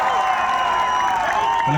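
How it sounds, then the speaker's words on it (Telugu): Crowd clapping and cheering at a road show election rally with a campaign vehicle, a dense steady roar of applause, loud and close, with shouts and voices mixed in. "గట్టిగా చప్పట్లతో కాంగ్రెస్ పార్టీకి స్థితి చెప్పండి"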